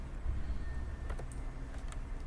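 Quick keyboard key presses for a Photoshop shortcut, a short cluster of light clicks near the middle over a steady background hum.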